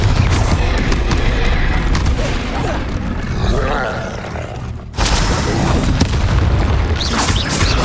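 Confringo blasting curses burst in Hogwarts Legacy, with heavy booms and crackling impacts amid combat noise, a sharp dropout, then a fresh loud blast at about five seconds.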